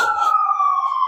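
An ambulance siren wails in a steady sustained tone on a city street during a walk, loud and close, with no talking over it.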